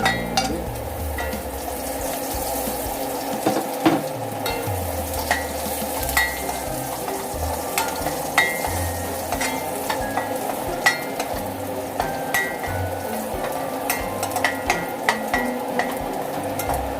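Garlic fries in an unwashed pan still coated with pork flavour for pork belly with broccoli, a loud, steady close-up sizzle punctuated by scraping stirs of a utensil against the pan, with no voices.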